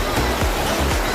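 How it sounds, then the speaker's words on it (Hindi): A waterfall flows near a cave temple, giving a steady, dense rush of falling water that fills the space evenly, with a few soft low thumps underneath. "देखिए पास में एक झरना बह रहा है"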